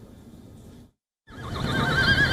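Horses whinny and neigh loudly up close, a long rising call after a brief silence, as riders gear up for a Buzkashi match in Afghanistan.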